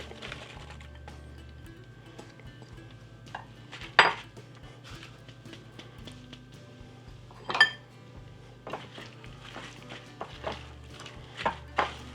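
Apples being mixed into a milk batter for an old-style apple johnny cake, with a spoon clinking and knocking against the bowl in irregular bursts, a few sharper taps standing out, close by with no talking.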